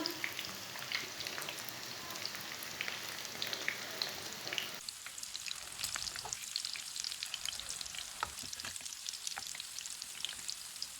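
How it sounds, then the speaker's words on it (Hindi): Beef kababs fry in a pan with oil on a moderate flame, a continuous crackling sizzle with dense fine spatters that shifts in tone partway through after the kababs are turned, no talking. "दूसरी साइड से भी 2 मिनट तक फ्राई कर लेंगे"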